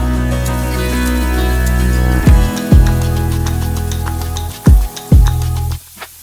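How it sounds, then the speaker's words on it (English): Sliced tofu sizzling steadily in hot oil in a pan, a loud continuous crackle with several thumps and scrapes as pieces are placed or moved, ending abruptly. "Heat a pan and add oil. Slice the tofu and add to the pan."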